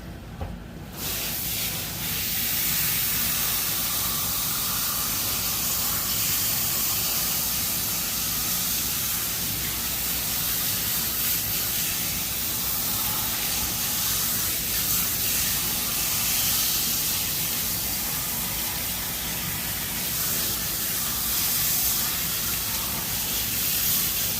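Steady hiss of a water spray rinsing shampoo out of a dog's coat during a grooming session, running continuously and close by with no talk.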